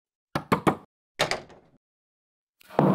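Three quick knocks on a home door, then a single heavier thump, followed by a muffled clatter; close and fairly sharp in a quiet indoor room.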